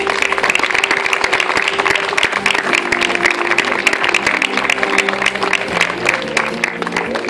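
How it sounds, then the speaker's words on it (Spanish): A crowd at a tribute to the bars and cantinas of Barrial de Gáldar applauds Pepe Reyes, a steady, dense burst of clapping lasting the full seven seconds, loud and close, with a faint murmur of voices beneath. "El aplauso para Pepe Reyes."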